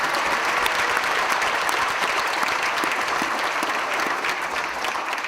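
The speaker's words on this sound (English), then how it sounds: "You can applaud for that." A crowd at a university commencement ceremony applauds in a steady, dense wash of clapping that holds at an even level throughout.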